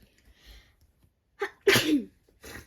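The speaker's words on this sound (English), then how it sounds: "I'm gonna sneeze again, but I'm not gonna cut" A single loud, close sneeze with a sharp intake of breath before it, followed by a short breathy sound.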